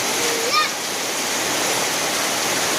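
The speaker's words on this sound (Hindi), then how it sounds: "देख सकते हो अरुणाचल में बारिश दे रहा है।" Heavy morning rain in Arunachal pours down in a dense, steady roar like rushing water, loud and close, with a faint short tone rising briefly near the start.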